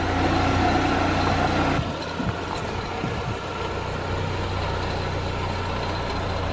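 A Saab fitted with Turbo X wheels backs out of a driveway, its engine idling low and steady; the tone drops slightly after the first couple of seconds and stays constant, with faint outdoor background around it.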